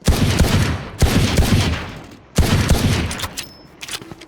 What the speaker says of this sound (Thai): เขายิงตรงอยู่นี่กดโดนเลยครับ